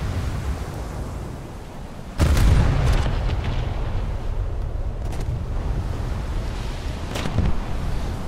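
Ship detonation in World of Warships, a sudden heavy boom at just over two seconds that rolls into sustained rumbling battle noise, with further sharp gunfire blasts later, loud and close.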